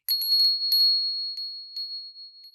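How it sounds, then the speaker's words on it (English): Porch wind chimes rattling in a restless breeze: light metallic chimes tinkle in a scattered, irregular cluster of strikes, a few bright notes ringing out and fading one after another. "the porch wind chimes rattled against a restless breeze"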